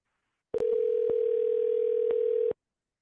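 A telephone dial tone before an outgoing call sounds as a steady, unbroken tone lasting about two seconds, with small clicks at its start and end, clear and alone.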